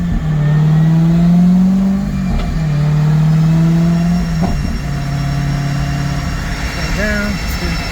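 Corvette C6 ZR1 with a Griptec pulley on a dyno: the engine holds a close, loud drone at steady revs, drops and climbs again in repeated pulls, then blips briefly near the end.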